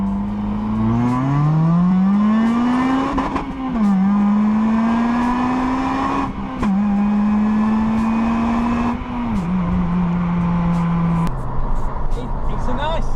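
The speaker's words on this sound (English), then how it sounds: "I'm just running a stock exhaust" A car engine with a stock exhaust revs loudly and steadily, its pitch climbing and dipping through several rev cycles before dropping off near the end, with a voice talking over it.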